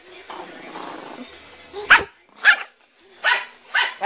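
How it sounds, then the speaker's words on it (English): A dog barks four times in sharp, spaced yips close by, following a short stretch of talking. "That's my dog, Mudge."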